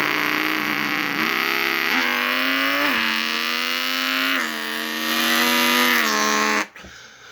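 A voice imitates drag race cars revving: a sustained, loud engine-like roar that climbs and drops through several gear-shift surges before cutting off abruptly.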